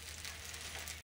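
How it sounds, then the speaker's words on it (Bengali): Fish frying in oil in a Bengali village home kitchen, a steady close sizzle with crackling and spitting that runs without a break for about a second. "ওই যে মাছ ভাজা ওখানে হচ্ছে।"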